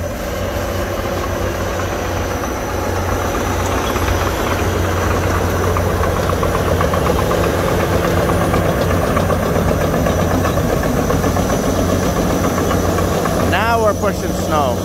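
A machine pushing snow keeps up a steady, loud engine drone with a rumbling, knocking undertone that holds the whole time, and a brief higher rattle or squeal comes near the end.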